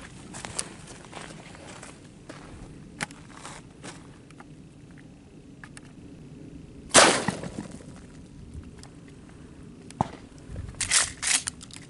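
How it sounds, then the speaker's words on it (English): A 12 gauge Mossberg 590 shotgun loaded with a 50 BMG round cased in a shotgun shell fires one sharp, loud blast in a quiet outdoor setting, followed later by a few fainter clattering knocks. "we're gonna fire the 50 BMG cased in the shotgun shell, 12 gauge with my Mossberg 590"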